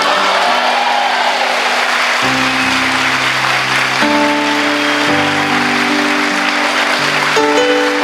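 A church congregation applauds at a preaching service, a steady wash of many hands clapping under sustained keyboard chords that shift every second or two, with no clear talk.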